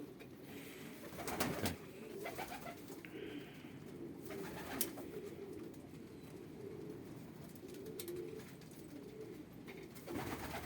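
Female pigeons coo continuously in a low, throaty murmur, several birds close by, with occasional brief clatters and flutters over the steady cooing.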